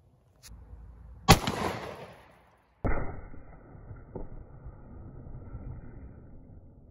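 Glock 29 pistol firing a 10mm 155 grain Gold Dot round into ballistics gel outdoors, one sharp loud report with ringing decay, followed by a sharp metallic clang and a lingering tone, no talk.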